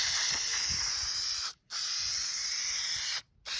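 A spray can mists a coat onto a foam wing: a steady, close hiss in two long bursts, each broken by a short pause.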